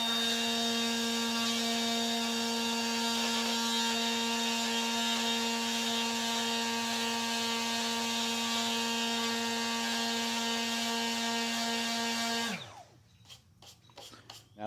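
Milwaukee M12 Fuel detail sander running at speed 4 with 120 grit paper, a steady loud high-pitched motor whine that holds constant for about twelve seconds, then winds down and stops, followed by a few faint knocks.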